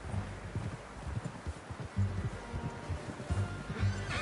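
Steady clip-clop of horse hooves on a hard path in Red Dead Redemption 2, a plodding rhythm close by with faint outdoor rustle behind.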